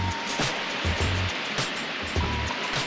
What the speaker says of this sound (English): It's like huge waves out there.